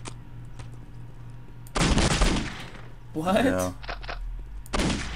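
Rapid pistol gunfire from the video game Postal 2 comes in loud bursts, one near the middle and another short burst near the end, with voices talking between the shots.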